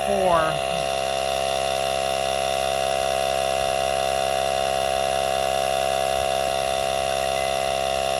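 A Ridgid 18-volt handheld cordless inflator compressor spins up with a brief rising whine, then settles into a steady, loud, buzzing mechanical hum that continues unbroken while it fills a tire.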